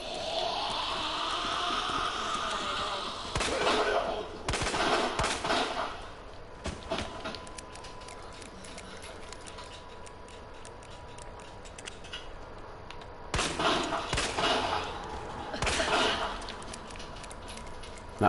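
Sharp gunshots from Claire's handgun in Resident Evil 2 Remake ring out in scattered bursts, a pair of cracks early on and another pair near the end, over a low, steady game ambience.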